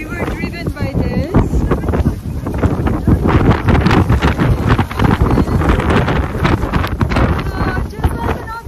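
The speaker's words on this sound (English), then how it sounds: "It's very windy." Strong wind buffets the microphone beside the Athabasca River near the Columbia Icefield glacier in Alberta, a constant loud roaring rumble with gusts, while a voice speaks over it.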